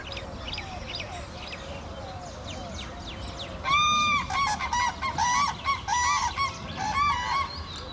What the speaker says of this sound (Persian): در بعضی از فرهنگ‌ها صدای درنا رو صدای آسمانی میدونن